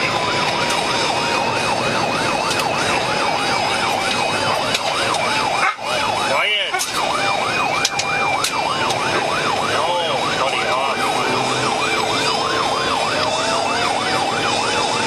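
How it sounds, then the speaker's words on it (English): A police car siren wails continuously, rising and falling in loud, close cycles during a high-speed chase, with brief engine and road noise underneath. "lights flashing and siren wailing"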